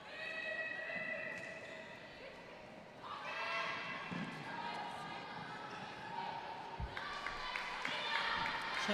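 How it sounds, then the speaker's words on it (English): Gibraltar's home crowd cheers and chants steadily through a netball match against UAE at the 2018 Netball Europe Open Challenge. The noise is loud, sustained and crowded, with a ball bouncing on the court beneath it. "As you can hear, the Gibraltar home crowd really getting behind their team"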